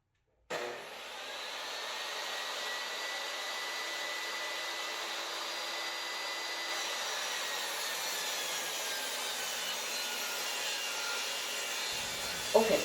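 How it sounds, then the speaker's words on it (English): Table saw ripping wooden boards into strips, a continuous high whining cut running for over ten seconds at even loudness after an abrupt start, ending with a short clatter. "But I'm going to run these through and make some strips."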